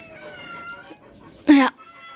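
A cat lets out one short, loud yowl near the end, with a person talking softly beforehand.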